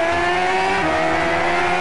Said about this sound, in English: playing the car racing game